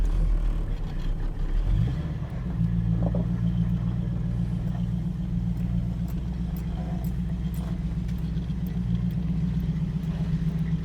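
A 1937 Buick street rod drives along, a close, steady low engine rumble and drone that settles into an even running tone after a brief shift early on, with road noise and no talk.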